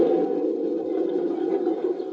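A remote-control StuG III tank model's engine sound shuts down, a steady low mechanical hum droning evenly for a couple of seconds, like a small engine winding down.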